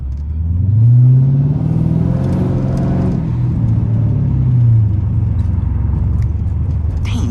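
A straight-piped Dodge Charger R/T speeding up on a bumpy road: a loud, close engine rises in pitch through a throaty rev, settles, then climbs again in a second swell, droning steadily throughout.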